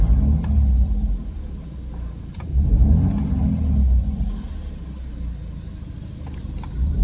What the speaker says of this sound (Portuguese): E quando a gente acelera, os números do contagiro